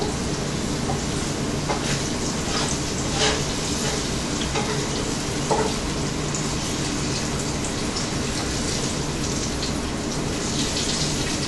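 Sweet potato fries bubble and sizzle in hot frying oil, a steady dense crackle with scattered pops, close and continuous throughout, no talking.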